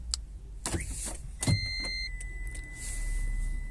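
A Toyota Prius car alarm arms by remote: a few sharp clicks and thumps, then a clear electronic bleep with a steady high tone that lingers, heard close up against a low idle-like hum, with no talking.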